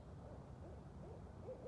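Barred owls hoot back and forth in a wooded setting at night, several soft, rhythmic calls layered over one another at a distance, faint against a steady low background hiss.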